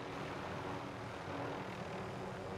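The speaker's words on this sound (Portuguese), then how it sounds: "Ah, eu vou pegar o avião." Airplane engine in the video game Warzone Caldera, a steady, continuous drone that stays at an even loudness throughout, with no voices over it.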